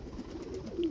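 A Rampuri pigeon at a pigeon market in Shahdara, Lahore, giving a soft, low coo, close and brief.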